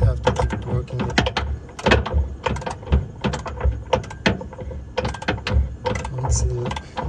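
A car control arm bolt being worked loose with hand tools, giving repeated metallic ratcheting and clanking bursts in uneven clusters, loud and close, with speech mixed in.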